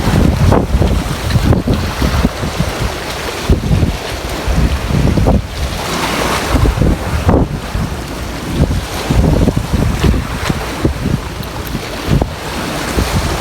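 Strong wind buffeting the microphone continuously while fishing from a small boat on the water, with steady gusty roar and waves lapping throughout.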